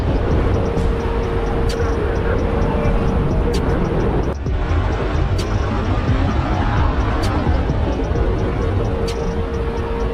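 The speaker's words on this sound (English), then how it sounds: "The Boeing 757 narrowly avoided a tail strike during takeoff, escaping danger by a hair's breadth." A Boeing 757 taking off and narrowly avoiding a tail strike: a loud, steady broadband engine roar with a thin whine and faint repeating ticks, uninterrupted for the whole stretch.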